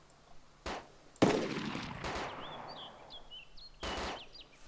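Gunfire in the survival video game DayZ, with several sharp, loud shot bursts spaced across a few seconds and a ringing tail after the biggest blast, plus faint bird chirps in the background.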